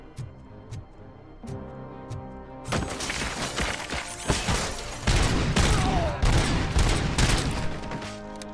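Gunfire in the video game RoboCop: Rogue City opens with a few spaced single shots, then breaks into sustained loud bursts of rapid fire with crashing impacts that continue to the end.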